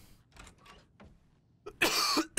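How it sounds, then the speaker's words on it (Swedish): A person with a lingering cough coughs loudly twice in quick succession near the microphone after some quieter rustling. "Den här jävla hostan, när ska den släppa egentligen?"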